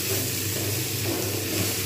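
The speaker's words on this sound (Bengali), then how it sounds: "ভালো করে নাড়িয়ে নেব" Vegetables frying in a pan after salting, for a prawn and spinach ghonto, give a steady close sizzle and hiss while being stirred, with soft scraping mixed in and no talking.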